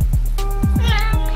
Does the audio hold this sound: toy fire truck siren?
no